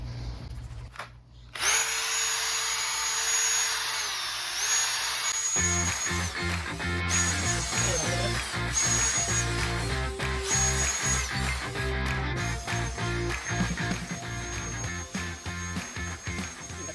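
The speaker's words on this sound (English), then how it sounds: "now we're gonna bust out our power tool, another nylon rotating brush here on our drill." A power drill spins a nylon rotating brush, scrubbing rust stains off a concrete patio treated with vinegar, a loud steady whirring grind with scraping brush texture that runs continuously for the whole stretch.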